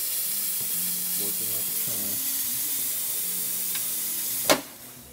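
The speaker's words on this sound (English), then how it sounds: "let's get some steam out of it, and there you have it" The steam wand of a La Spaziale Mini Vivaldi II espresso machine gives a steady broadband hiss that runs throughout and ends with a sharp burst. Someone speaks briefly over the hiss.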